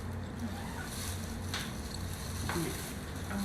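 Chicken wings shaped into tulips deep-fry in hot oil with a steady, close bubbling sizzle and occasional soft clicks of a utensil; no voices.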